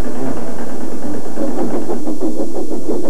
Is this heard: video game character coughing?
no